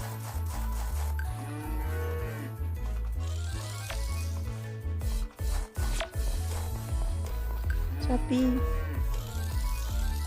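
Cows in the farming game Story of Seasons: Friends of Mineral Town moo repeatedly over a looping background tune, with clicks and short interface sounds scattered throughout.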